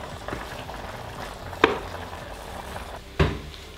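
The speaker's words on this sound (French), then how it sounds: "Je laisse mijoter tout ça pendant 5-10 minutes" A Mexican burrito-bowl mixture of spices, salt and pepper simmers and crackles softly in the pan, broken by two sharp clinks of a utensil against the pot.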